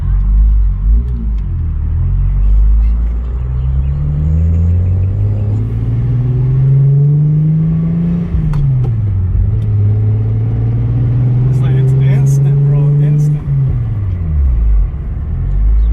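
Hyundai Genesis Coupe on a test drive, its engine rumbling loudly and rising in pitch through the gears with a clear shift partway through, steady road noise beneath throughout.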